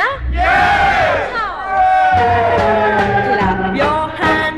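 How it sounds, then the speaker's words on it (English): A crowd of voices shouts hooray together in a loud, ragged burst, then a second drawn-out cheer follows, both close and filling the whole moment. "I want everyone to clap your hands and shout hooray when I wave to you"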